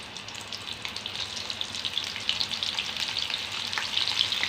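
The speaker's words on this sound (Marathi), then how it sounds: "हे सोयाबीनला आटा लावून घेते, तळून घेऊया।" Soybean chunks coated in flour frying in hot oil, a dense continuous bubbling sizzle that grows slightly louder over a few seconds, close by with no talking.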